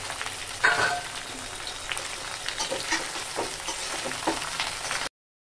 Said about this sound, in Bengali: হালকা হালকা ভাজা হয়ে গেছে।